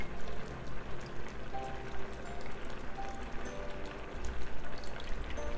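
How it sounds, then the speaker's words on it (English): Coconut milk poured from a can into a pot of rice, a steady close liquid stream running continuously with no talk over it. "we're gonna add 1 more can coconut milk"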